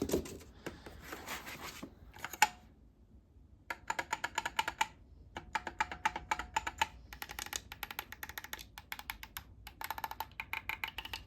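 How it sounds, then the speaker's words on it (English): Rapid plastic clicks from the buttons of an Asetek Initium sim-racing steering wheel in quick bursts, some single and some in fast runs, close up with pauses between groups; no voices. "This is how all the buttons sound."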